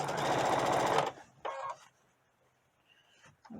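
A sewing machine top stitches the folded edge of small doll clothes in a short, loud, fast whir of about a second, followed by near silence and a few faint handling sounds.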